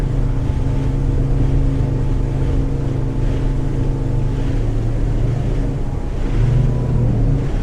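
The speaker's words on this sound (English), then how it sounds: "You can hear on that hard turn that motor's ventilating a little bit, trying to grab it" A Mercury 225HP outboard on a 2023 Thunderjet 200 Luxor boat roars continuously through a hard turn at about 36 mph, a loud, broad engine and water rush with a slight wavering strain as the prop loses grip.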